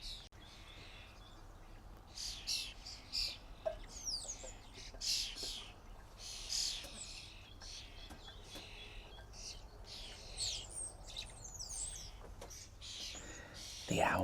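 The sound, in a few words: flock of starlings calling in a garden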